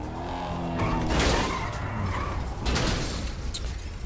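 Lamborghini Huracan in a video game, its engine revving and tires skidding in two loud bursts of screeching noise over a steady motor rumble.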